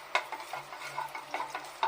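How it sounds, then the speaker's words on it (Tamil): Fennel seeds and other whole spices crackle and spit in hot oil, a busy patter of small pops with occasional louder bursts, close by and without speech. "இதெல்லாம் சேர்த்து ஆயிலில் நல்லா பொரிய விட்டுருவோம்."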